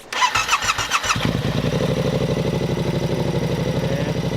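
A Yamaha R7 sport motorcycle engine cranks with a rapid clattering starter for about a second, then catches and settles into a steady, throaty idle close by.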